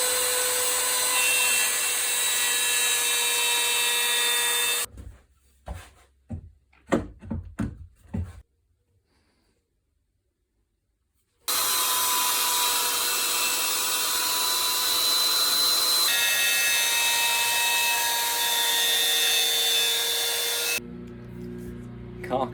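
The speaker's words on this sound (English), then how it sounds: "We need to run the grooves so the tenons will actually fully fit in the mortises" A power tool cuts grooves in wood for tenons to fit mortises while building a tool box carcass. It makes two long, loud runs of steady whining, separated by a few sharp knocks and a stretch of silence.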